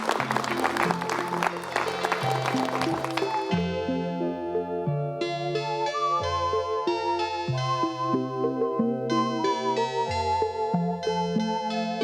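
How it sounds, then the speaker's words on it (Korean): A studio audience at a 1987 KBS television talk show applauds to welcome a guest. Dense clapping runs for about three seconds over band music, which then carries on alone. "여러분 박수로 맞이해 주시면 대단히 고맙겠습니다."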